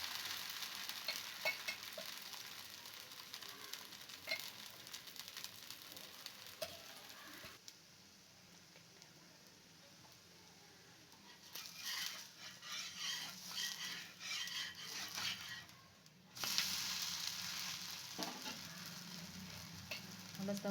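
Adai dosa batter sizzles steadily on a hot dosa griddle, a continuous crackling hiss that swells and dips as the batter spreads and fries, with no talking.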